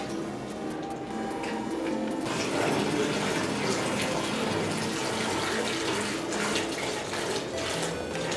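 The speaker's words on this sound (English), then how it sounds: "And fill it with water." Water pours steadily into a bucket, a constant loud rushing splash that swells slightly after the first couple of seconds and continues throughout.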